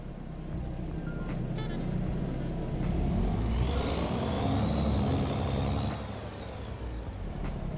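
A DD60 diesel engine in a lizard truck runs close by with a deep, rumbling throb that swells into a louder rev midway before settling back to a steady idle.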